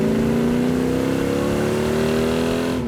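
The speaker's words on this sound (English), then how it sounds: "You can hear it coming down the road. That is one snarler of an engine." A million-dollar supercar engine with dual quad carburettors holds a loud, close, snarling drone whose pitch climbs slowly as it revs, then cuts off abruptly at the end.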